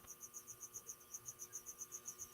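Crickets chirp in quick, evenly spaced pulses, faint and steady, with a constant high trill in the background.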